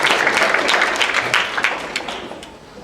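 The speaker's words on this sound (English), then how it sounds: "So I'd like a round of applause for both the hotel staff and equipment." Audience applause at a cosplay contest, a dense crowd of clapping hands sustained near and loud before gradually tapering off toward the end.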